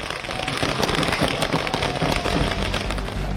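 Fireworks crackle and pop in rapid, irregular bursts over a constant loud roar of crowd noise at a BJP election victory celebration in Delhi.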